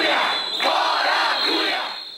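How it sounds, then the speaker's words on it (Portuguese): A crowd of protesters at a debate session booing the president of the Chamber of Deputies, a loud, continuous mass of jeering voices that holds steady before easing off at the end. "Eduardo Cunha, foi vaiado esta manhã no início do evento."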